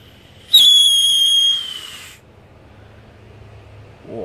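Whistling firework rockets let out a sharp, loud scream lasting over a second, fading into a quieter tail, with low rumbling noise and a faint rising whoosh near the end.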